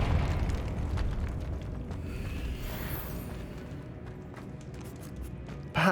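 Confringo explosive spell blast in the Hogwarts Legacy video game: a rumbling, eruption-like burst that swells and slowly fades over several seconds, ending with a sudden loud hit.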